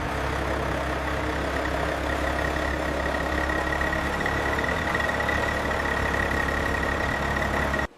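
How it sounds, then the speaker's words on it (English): A large engine of the Titan X24 Bull Monster runs steadily at idle, a constant low rumble with a faint whine, unbroken until it cuts off at the very end. "The engine sounds healthy"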